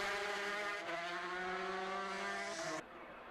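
Racing motorbikes scream past on a road race course during the Mann Auto 250 race. A loud, high-revving engine whine holds steady, then cuts off abruptly as the bikes go by. There is no talk.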